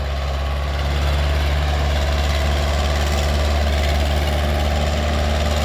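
A 1972 International 276 tractor, made in England, runs its engine loud and close, with a deep, steady chugging throb and a constant drone, unbroken for several seconds.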